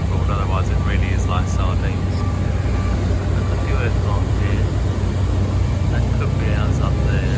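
Jet engines roar steadily across the apron at Corfu International Airport with several airliners, including an EasyJet, parked on stands; a loud, constant hum persists while someone speaks nearby.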